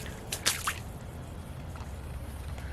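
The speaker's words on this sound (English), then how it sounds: "Look at all this water. Like, I'm walking through." Footsteps squishing through an inch or two of standing water on muddy ground, a couple of wet splashy steps close by early on, then a steady low background.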